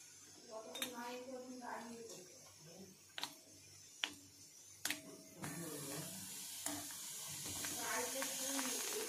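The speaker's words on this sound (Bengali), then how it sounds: "তো এই একইভাবে সমস্ত ফুচকাগুলোকে ভেজে নেওয়া হবে।" Fuchka puri shells deep-fry in hot oil on a stove, building into a steady bubbling hiss over the second half, with a few sharp clicks earlier and a person talking throughout.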